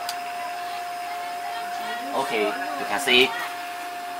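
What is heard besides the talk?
turbo molecular pump running in a DIY vacuum system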